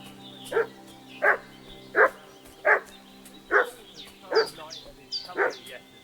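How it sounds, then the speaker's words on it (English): A dog barks in the medieval role-playing game Kingdom Come: Deliverance II, seven evenly spaced loud barks about a second apart, with some birdsong and a low background hum. "What's that dog making such a fuss about?"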